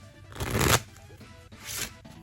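A brand new deck of playing cards is riffle-shuffled twice, each a quick rising flutter of snapping cards up close, separated by a short pause.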